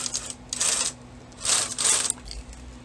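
A bulky knitting machine carriage is pushed across the needle bed for a Fairisle yoke pullover, giving two bursts of rattling, clicking mechanical clatter separated by a short pause, close and fairly loud.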